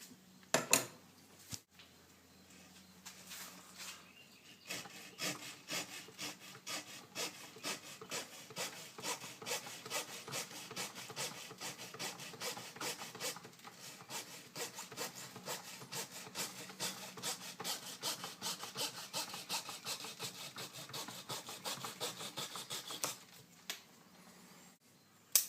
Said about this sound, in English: I do think I'm going to get my Dremel and hollow that out a little bit